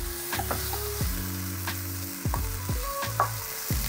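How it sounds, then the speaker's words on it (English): Loud sizzling and crackling of meat searing in a hot pan for a stir fry, with clanks and scrapes of utensils stirring at irregular intervals. "now that I've got some sear sizzling going on"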